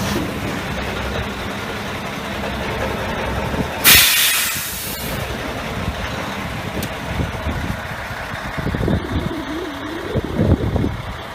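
A tractor unit's air brakes releasing during a Class AZ truck pre-trip inspection: one sharp, loud burst of air hiss lasting about a second, set against steady engine idle and low rumbling.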